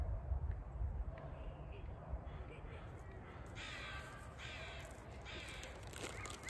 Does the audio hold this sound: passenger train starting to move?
no